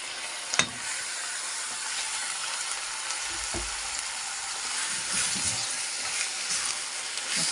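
Meat dropped into a pan of golden-browned onions over high heat gives a loud, steady sizzle and hiss, with a few utensil knocks and stirring sounds close by and no talking.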